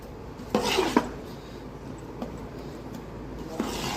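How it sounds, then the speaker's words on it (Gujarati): A spoon scrapes and clinks against a bowl while handvo batter is stirred, with a few sharper knocks against the rim and a soft continuous rub between them, close by. "બધો એક સરસ થઈ જાય ત્યાં સુધી આપણે હલાવીશું."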